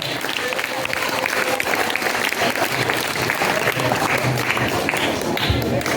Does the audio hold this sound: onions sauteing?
no